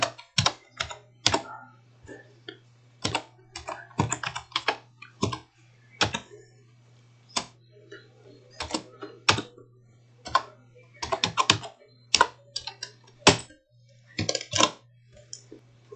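Typing on a computer keyboard while entering stock categories in TallyPrime accounting software: irregular clusters of crisp key clicks with short pauses between bursts, close and fairly quiet over a faint steady hum.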